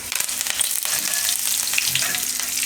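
Chopped garlic and curry leaves fry in hot oil in a pan, with a loud, close, steady sizzle and crackle and a few stirring scrapes.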